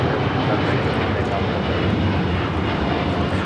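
El Al Boeing 787-9 Dreamliner in retro livery taking off at Los Angeles for Tel Aviv, a dense, constant jet roar filling the air from start to end, with someone speaking over the engine noise.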